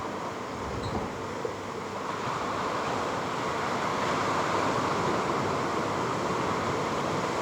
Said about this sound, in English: I hope you can hear the amazing sound of the ocean in the background of this beautiful island